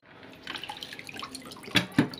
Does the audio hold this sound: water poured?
yes